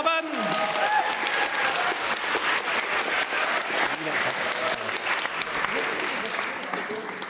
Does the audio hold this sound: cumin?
no